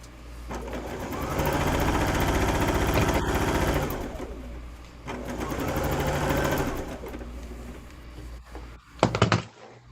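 A sewing machine stitches Bargello quilt strips together in two long runs of steady, rapid mechanical chatter with a short pause between, ending on a few louder clunks as the machine stops.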